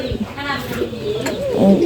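Pigeons coo close by in a pigeon loft, a soft throaty rolling call repeating over a short stretch, with a voice talking faintly in the background.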